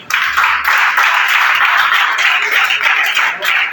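A congregation claps loudly and continuously at a Saturday teaching and prayer gathering, a close, sustained burst of many hands with no pause.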